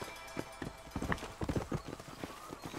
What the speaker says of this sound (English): My horse is coming.